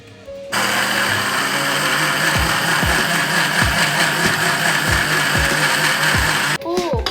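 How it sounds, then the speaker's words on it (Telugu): A kitchen mixer grinder grinds dry lentils with no water, a loud steady motor whine with rhythmic thumps, starting and stopping abruptly. "అంత లోపల మనం పప్పుని గ్రైండ్ చేసేసుకుందాం."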